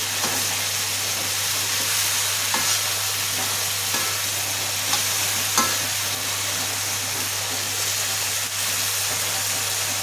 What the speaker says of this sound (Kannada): ಇಷ್ಟೂ ಒಂದೆರಡು ನಿಮಿಷ ಬಾಡಿಸ್ಕೊಂಡು